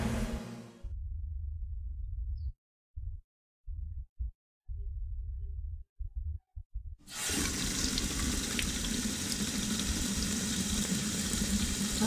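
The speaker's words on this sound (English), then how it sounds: "I washed my face with cold water to drive away the sleepiness." Cold water running from a tap in a video game as a face is washed: broad steady splashing stream that starts abruptly partway through and continues loud to the end, after quieter low rumbling with gaps.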